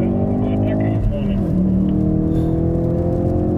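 A 2017 Ford Focus RS with 350 hp laps a rainy circuit, its engine droning loud and close, the pitch dipping at a gear change before climbing steadily again.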